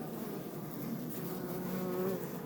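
A steady, dense buzzing hum of many honeybees crowded at close range in an overflowing two-storey hive, continuous and even throughout with no voices.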